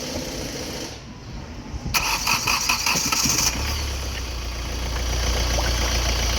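The 1.4-litre engine of a Hyundai i20 with a blown head gasket cranks on the starter with a steady whirring drone, then keeps running as a loud, constant engine rumble with a low hum.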